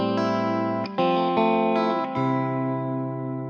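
An electric guitar runs through an Amplitube TONEX pedal set to spring reverb, strumming a few bright chords that ring out and decay with a shimmering reverb tail, close and clear, no voices.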